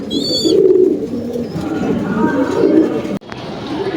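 American Lakka pigeons cooing on a farm, low throaty coos rolling close by in the foreground with a brief high chirp at the start and background murmur.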